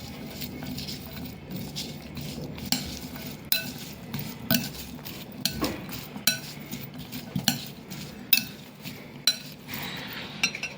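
A spoon mixes green turmeric pickle ingredients with salt in a bowl, giving a soft wet churning bed punctuated by regular, fairly close clinks and scrapes roughly every second.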